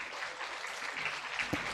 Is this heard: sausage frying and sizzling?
no